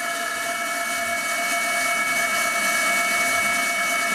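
An electric motor driven by a variable frequency drive runs loudly, a steady whining hum with sharp tonal drone lines that hold constant throughout, with no talking.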